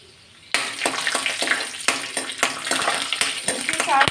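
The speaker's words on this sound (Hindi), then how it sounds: "उसके साथ साथ ऐड कर लूँगी ये ड्राई फ्रूट है, बादाम है और आपका काजू है। इसको फ्राई कर लूँगी हल्का।" Cloves, cardamom, almonds and cashews fry in a pan for suji and jaggery halwa, a steady sizzle broken by repeated sharp scraping strokes of a stirring spoon, close and fairly loud.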